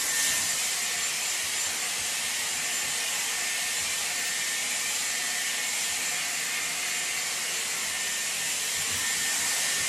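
A Dyson Airwrap with a 40mm round brush barrel blows a steady, airy whoosh with a high whine while smoothing hair, constant and moderately loud throughout with no talking.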